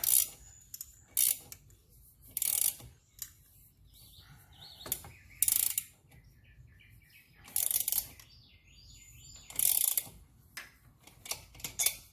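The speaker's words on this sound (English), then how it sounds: "kind of crank down the bracket a little bit here" A ratchet tightening a Honda CTX700 exhaust bracket bolt, several short bursts of rapid clicking separated by brief pauses, close and crisp, with faint birdsong in the background.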